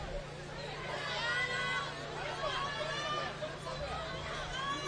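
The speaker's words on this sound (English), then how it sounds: "Crowd is buzzing here at the stadium." A baseball stadium crowd at the Bahamas Games keeps up a continuous murmur of many overlapping voices, steady and moderately loud, with no single speaker standing out.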